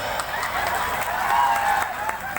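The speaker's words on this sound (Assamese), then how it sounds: "আপোনালোকে হাত চাপৰি দিয়ক" Applause from a comedy show audience, a steady broadband clatter of many hands that holds evenly for a couple of seconds with a faint voice underneath.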